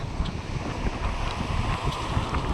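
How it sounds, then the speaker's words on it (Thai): Strong storm wind in the Netherlands, a steady broadband roar buffeting the microphone close up with continuous gusty rumble and no pauses, no voices present. "ลม ปิวต้นไม้ไหวไหว อะไรคะเพราะว่ามันมีพายุเข้า"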